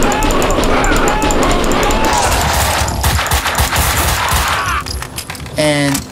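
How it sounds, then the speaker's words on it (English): Gunfire in the video game Max Payne 2, a loud, sustained barrage of rapid shots that runs for several seconds and stutters out at the end, mixed with other game sounds. "Someone must have heard the gunfire."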